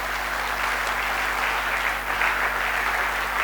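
A church congregation applauds to acclaim the Lord, a steady wash of clapping from a crowd that holds evenly from start to finish with no voices above it.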